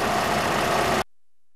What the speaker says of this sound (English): The engine may run rough for a few minutes while air is purged from the system.